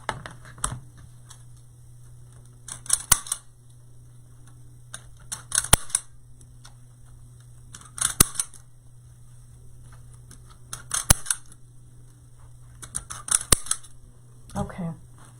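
Scissors snip through deco mesh while a dress-shaped wreath is being made, sounding as five separate bursts of quick, close cutting clicks spaced a few seconds apart over a steady low hum.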